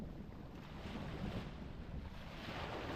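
Waves wash steadily onto a pebble beach on Rhodes, a continuous soft surf hiss with wind rushing across the microphone and no voices.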